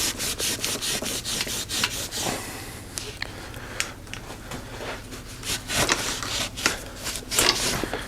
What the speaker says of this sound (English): I'm going to take a semi-clean rag and start kind of wiping things down